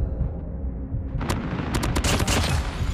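Rapid gunfire from the Call of Duty video game, a dense burst of overlapping shots that starts after a quieter second and continues loudly with sharp cracks to the end.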